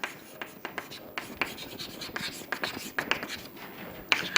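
Chalk scratches and taps across a classroom board, in a steady run of short strokes with sharper clicks as each mark lands, fairly close and clear, with no talk over it.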